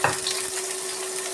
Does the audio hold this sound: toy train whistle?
no